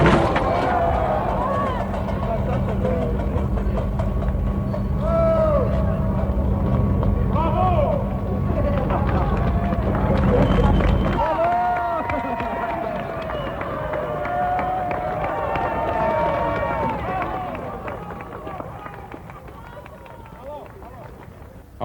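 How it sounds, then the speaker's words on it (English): Jean Tinguely's Homage to New York, a machine sculpture, tearing itself apart in a dense, continuous clatter of grinding and rattling parts, with a crowd murmuring and calling throughout and a low steady drone cutting out midway. "I will now play the sound, or actually the last sounds of Mr. Tinguely's Homage to New York as it died."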